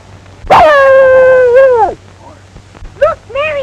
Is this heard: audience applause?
no